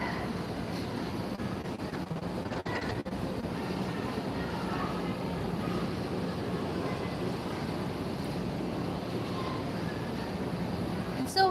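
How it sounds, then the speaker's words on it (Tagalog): Strong wind buffets the microphone in a continuous rough rumble and hiss, broken by a few sharp gusty thumps. "It's so windy here."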